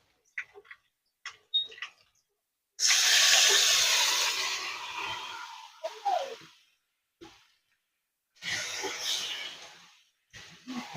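Meat goes into a hot pan of frying onions and potatoes for chicken curry, setting off a loud sizzle that slowly fades, then flares again, with scattered clinks and stirring between.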